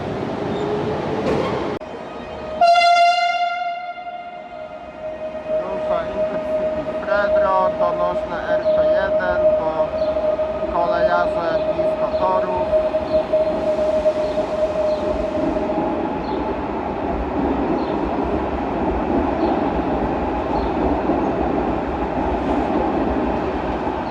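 Trains at Wrocław Główny station: a loud horn blast with a strong tonal chord sounds near the start, then rolling rail noise and squealing wheels carry on steadily, with faint voices in the background.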